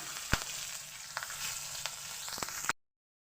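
Black cumin seeds and green chillies fry in mustard oil with a steady soft sizzle and a few sharp spits and pops, until it cuts off abruptly near the end.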